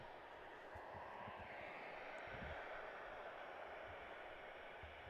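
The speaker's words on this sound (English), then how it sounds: "We've got planes moving around." Airplanes taxi and move around at Chicago O'Hare airport, producing a steady, broad jet-engine roar heard from a distance with faint low rumbles beneath.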